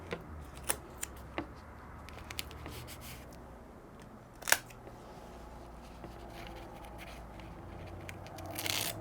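Scissors trimming fabric or vinyl overhang for an in-the-hoop embroidered passport cover with a snap tab, making a straight cut: a quiet scatter of soft snips and scrapes, with one sharper cut near the middle, and no talking.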